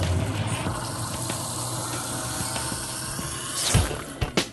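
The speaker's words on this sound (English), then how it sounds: "run a little hot water, and that will actually stop the freeze of the water," Hot water runs steadily down a garbage disposer drain, a continuous rushing gush that holds fairly even throughout, with a few brief knocks and splashes near the end.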